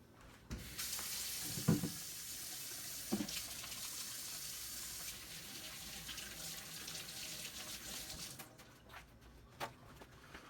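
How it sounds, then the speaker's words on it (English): Running tap water splashes steadily over hands being washed at a kitchen sink during cooking, a continuous hiss with a few louder splashes, fairly close and with no talking. "I'm gonna wash my hands"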